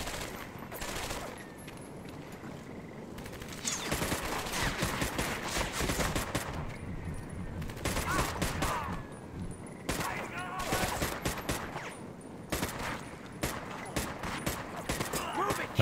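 Video game gunfire in Medal of Honor: Vanguard, with bursts of rapid shots coming in clusters over steady battlefield noise, loud and close, while a voice talks at times.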